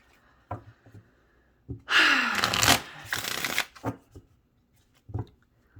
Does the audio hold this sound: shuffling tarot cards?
yes